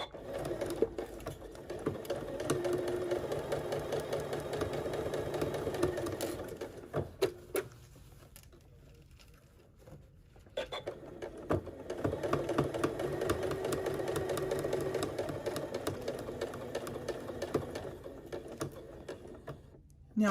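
A sewing machine stitches a straight line of fabric for stuffed letters, a fast steady mechanical whir heard close. It pauses briefly in the middle, then runs again with no talking.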